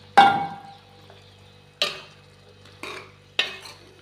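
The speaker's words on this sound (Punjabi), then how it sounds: "ਆਪਾਂ ਜੀ ਮਸਾਲੇ ਦੇ ਵਿੱਚ ਇਹਨੂੰ ਚੰਗੀ ਤਰ੍ਹਾਂ ਮਿਕਸ ਕਰ ਦਾਂਗੇ" Bottle gourd being stirred into masala in a pan: four distinct scraping strokes of a spoon against the pan, spaced about a second or more apart, close and fairly loud over a low steady background hum, with no talking.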